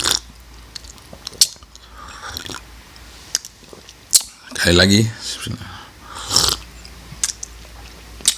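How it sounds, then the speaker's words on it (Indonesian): Slurping sips of unsweetened coffee come in a few short wet bursts between quiet pauses, with a brief spoken phrase. "Kita seruput dulu."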